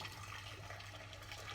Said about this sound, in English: I've already boiled the kettle to put it in the saucepan